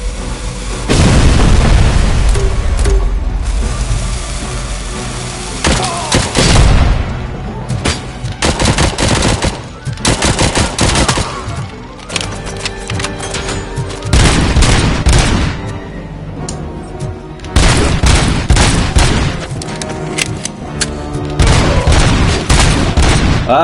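Sniper and other gunfire in RoboCop: Rogue City, loud repeated shots and rapid bursts with booming impacts across the whole stretch, dense and close, with brief pauses between volleys.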